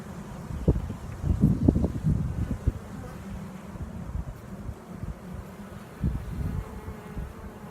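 Bees buzzing around a hive in April, a close, low hum with bursts of handling thumps and rustling, plus some wind across the microphone.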